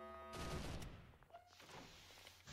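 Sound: gunshots in Roblox SCP roleplay video game

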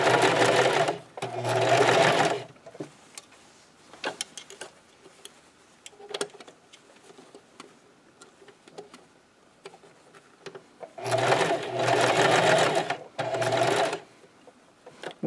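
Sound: sewing machine stitching a scrub cap

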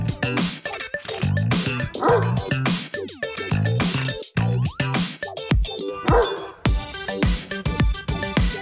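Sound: Great Dane dog barking

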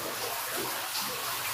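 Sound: bathing in hot water at a hotel

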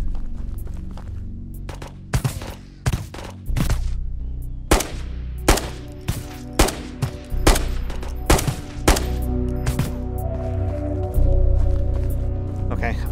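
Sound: gunfire in the video game Ghosts of Tabor

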